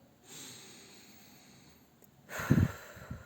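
A soft, slow breath drawn in, faint at first, then a louder, rougher nasal intake near the end, close and alone.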